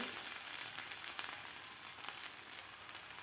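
Soybean and nachni thalipeeth roasting on a hot pan, giving a faint, steady, even sizzle with a few light crackles throughout and no voices.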